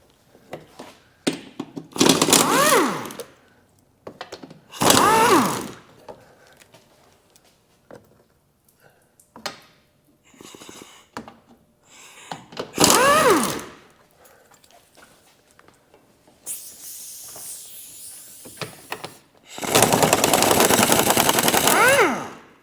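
A power tool, likely an impact wrench, fires in several loud separate bursts with quiet gaps while removing 13mm and 10mm bolts from the engine shield of a Jeep Grand Cherokee with a 3.6L Pentastar engine.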